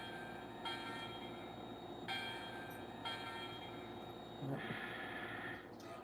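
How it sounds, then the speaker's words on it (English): A novelty train clock marks the hour with a recorded train sound, faint and distant, as soft bell-like strikes and a brief rumbling passage sit under a steady background hiss. "Yep, that's our train clock."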